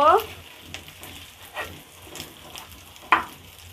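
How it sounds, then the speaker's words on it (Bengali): Rohu fish roe frying in hot oil, a steady sizzle with intermittent sharp pops and spatula knocks as it is broken up, a faint voice briefly in the background. "এখন আমি রুই মাছের ডিম দিয়ে দিব। এটাকে হালকা ভেজে নিব।"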